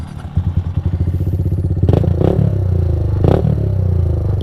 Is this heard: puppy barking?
no